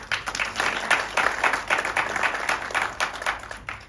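A room of people at a Nelson Mandela Children's Fund children's dialogue event breaks into warm applause, a dense, continuous wash of many hands clapping at once.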